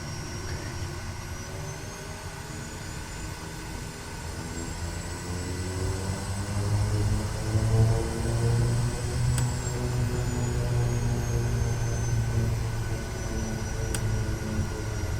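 A Kodiak 100 turboprop hums while taxiing at Goroka, Papua New Guinea, in a flight simulator, with a steady droning engine tone that swells gently midway and holds alone.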